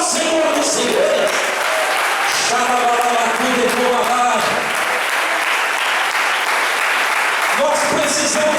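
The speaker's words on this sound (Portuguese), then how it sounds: "levanta as tuas mãos e aplauda o Senhor dos Senhores" A church congregation applauds loudly and steadily in a worship service, dense clapping filling the room with voices and cheering mixed in throughout.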